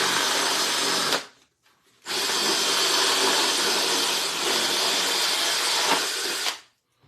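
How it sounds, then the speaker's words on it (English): A power drill whirs loudly in two long bursts separated by a short pause, grinding and buzzing as it cuts through soft styrofoam. "I just drilled around in a circle."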